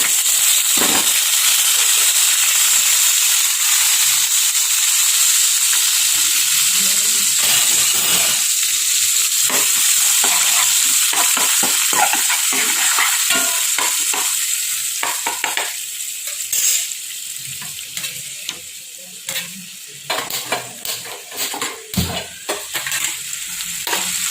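Tomato puree and turmeric powder hit hot oil in a pan with a loud, bright sizzle and spatter that hisses continuously, then settles into crackling pops and stirring scrapes as it calms.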